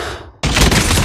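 Gunfire from a Call of Duty Mobile search-and-destroy match: after a quiet moment, a loud, dense burst of shots erupts and keeps going for the rest of the moment, close and uninterrupted.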